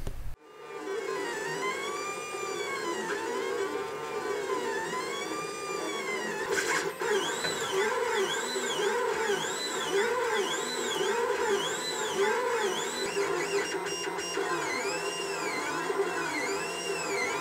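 A Lulzbot Taz 3D printer prints droid head parts, its stepper motors singing in rising and falling whirring tones with steady mechanical hum, close and continuous throughout with no speech.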